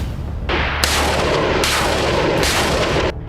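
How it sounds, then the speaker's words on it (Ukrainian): Heavy bursts of gunfire from border guards at a military training range, several loud booming shots in quick succession with sharp onsets, echoing across an open space. "На одному з військових полігонів прикордонники Донецького загону відпрацьовують техніку ведення вогню"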